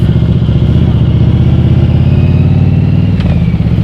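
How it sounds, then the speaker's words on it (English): A 1988 Yamaha Virago 1100 motorcycle rumbles steadily while riding, its low, throbbing engine loud and close, with a brief clatter near the end. "The bike I'm riding is an 88 Yamaha Virago 1100"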